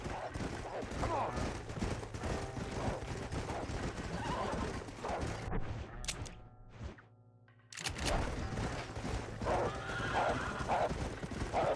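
Horses in the video game Red Dead Redemption whinny loudly amid busy clip-clop hooves and game sounds, with a brief near-silent gap before the hooves and neighing resume.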